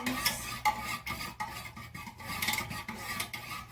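Cupcake-scented soy wax for candles is stirred in a container, giving soft repeated scraping and rubbing strokes in an irregular rhythm, close and fairly quiet with no talking.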